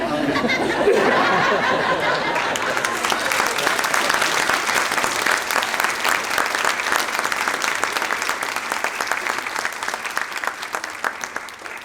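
An audience at a Special Olympics hall of fame awards ceremony breaks into sustained applause that builds after a few seconds of laughter and chatter, then stays steady and full.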